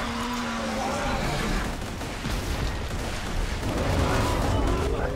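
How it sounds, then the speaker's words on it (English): Rocket launcher fire in Borderlands 2: a continuous roar of launches and blasts, loud and close, with overlapping explosions throughout and some speech mixed in. "And now I switch to rockets."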